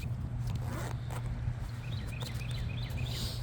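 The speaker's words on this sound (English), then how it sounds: "And it zips up just fine." A zipper closes a small watercolor painting pack in a few quick zipping strokes, close and fairly faint over a steady low background hum, with no talking.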